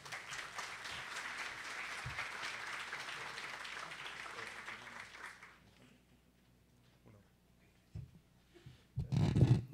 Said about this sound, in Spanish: recibamos con un fuerte aplauso al maestro Guillermo Pablo López Andrade